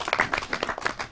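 Quick, uneven audience clapping from a small group for a child on a Pakistani TV radio show, a short burst of close hand claps.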